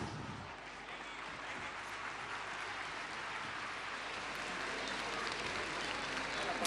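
Loud, steady audience applause fills a large stage event as a children's TV channel team heads up to the stage at a 2014 programming launch, with crowd noise throughout.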